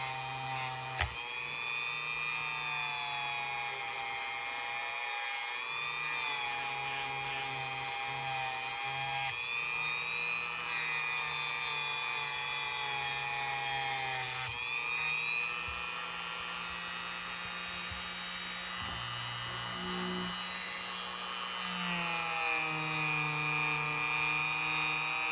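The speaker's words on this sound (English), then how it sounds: "We'll go ahead and hit the blades with the Dremel. Get off any of the surface rust that might be on there still." A Dremel rotary tool with a metal wheel grinds surface rust off metal blades in a shop, a steady high-pitched whine that shifts in pitch as it bears down, running continuously at moderate, close range.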